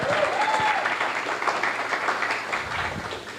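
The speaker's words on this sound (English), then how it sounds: "A round of applause for Scott," An audience gives a steady, dense round of applause at a live motivational event, sustained throughout without voices.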